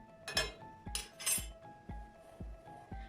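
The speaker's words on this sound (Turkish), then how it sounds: "İçindeki kaşığı da çıkartalım." Metal teaspoon lifted out of a teapot, clinking sharply against the pot a few times, followed by several soft knocks at a steady pace, close and quiet.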